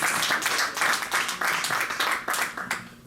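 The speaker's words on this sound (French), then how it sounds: "Nous allons applaudir pour lui." An audience at an award ceremony applauds Koffi Olomide, a dense burst of clapping that swells and dips in waves for a few seconds.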